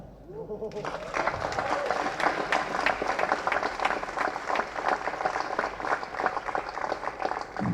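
An audience at a film first-look launch event bursts into applause after a brief quiet start, a dense, sustained clapping that carries on steadily, with a voice heard amid it.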